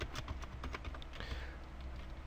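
Rapid keystrokes on a computer keyboard while entering HTML code, a steady stream of close, crisp clicks with no voices.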